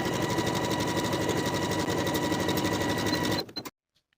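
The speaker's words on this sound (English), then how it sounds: "Pin in place and sew with a 3/8 inch seam allowance." A sewing machine runs steadily at speed, stitching the underarm seam of a wool jacket sleeve, a close, continuous mechanical whir that stops abruptly near the end.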